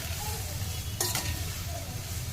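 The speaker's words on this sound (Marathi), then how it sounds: "त्यानंतर टाकायचे त्यामध्ये आपल्याला हे फ्लावरचे तुकडे. त्याला चांगलं मिक्स करून घ्यायचंय" Cauliflower pieces sizzle steadily in a hot frying pan, with one brief, sharp scrape of stirring near the middle over the constant low crackle.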